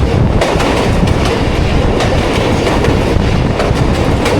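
A passenger train hauled by locomotive ZCU30 on the Awam Express rumbles steadily across the Malir River bridge, with loud continuous wheel and track noise and faint rhythmic clatter throughout.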